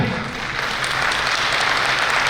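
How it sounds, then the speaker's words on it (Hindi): Audience applause at a Kutch Meena community gathering and biennial convention during the lamp-lighting opening, a continuous dense roar of clapping from a large hall crowd, steady and loud throughout. "साथियों, आपकी तालियां"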